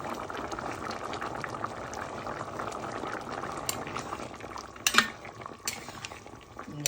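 Channa and potato curry bubbling in a pot, a steady close simmer with a brief clink of a utensil near the end.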